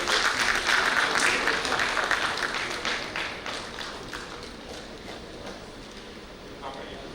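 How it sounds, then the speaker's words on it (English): An audience applauds at a TiECON 2025 session, loud, full clapping from a large hall that gradually dies down into scattered claps over several seconds. "You can go on and applaud,"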